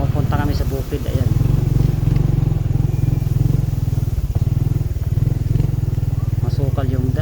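A Honda XRM125 motorcycle rides off-road along a rough, overgrown dirt path in Northern Samar, its engine droning steadily and close for the whole stretch with no pauses.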